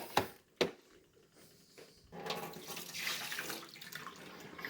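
Vinegar descaling water from a Keurig Duo mug is dumped into a sink after a couple of sharp knocks, a soft splashing pour that runs for a few seconds, fairly quiet and alone.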